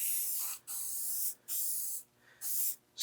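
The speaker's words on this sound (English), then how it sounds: "Spray a little bit and let it sit for just a moment." 3M adhesive remover sprayed from a can onto a vehicle vent window area, four close, loud hissing bursts of roughly half a second to a second each, separated by short silent gaps.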